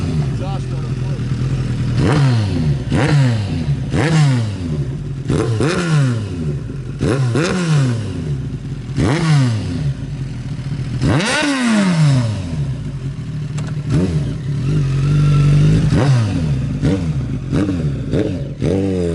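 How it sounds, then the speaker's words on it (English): A 1988 Kawasaki ZX1000-B1 Ninja motorcycle engine revs repeatedly, its exhaust note rising in sharp climbs and falling back between blips. It sounds loud and close throughout, with a steady idle rumble underneath. "Exhaust note"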